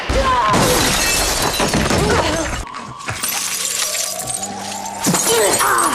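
Glass shatters loudly in an action film scene, a dense burst of breaking and tinkling shards followed by quieter debris, a rising tone and a thud.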